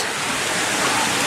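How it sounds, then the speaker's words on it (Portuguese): Water spills from small waterfalls into a pond holding carp, a steady, broad rushing and splashing that stays loud and even throughout with no voices. "A água vem lá das cachoeirinhas lá de cima, ó. E aí forma essa represinha aqui"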